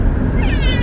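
A person imitates a cat's meow, producing a short, rising voiced meow sound, close and loud, alone without other talk.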